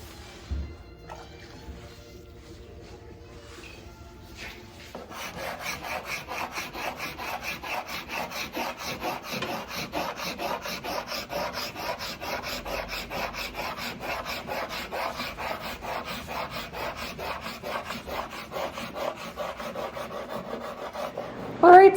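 Scraping and rubbing while stripping an old whitish-yellow finish off a wooden table leaf, quiet at first, then continuous rapid rasping strokes close by for most of the stretch.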